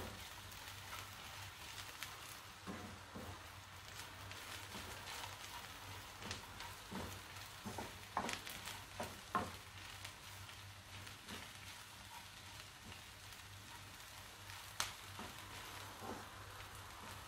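Onions and shallots sautéing in a pan over high flame, a faint steady sizzle with scattered clicks and scrapes from stirring, quiet and without voices.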